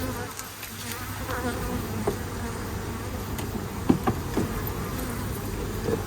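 Honey bees buzz around hive frames lifted out of an opened hive, a continuous close drone with individual bees whizzing past the microphone.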